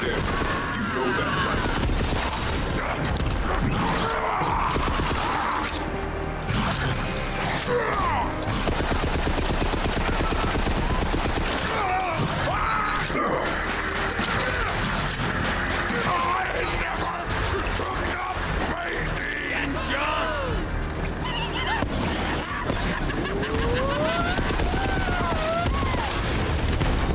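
Gunfire rattles through a Borderlands 3 first-person shooter firefight: rapid machine-gun bursts and single shots crackle nonstop alongside booms, loud and dense the whole time, with occasional voices in the mix.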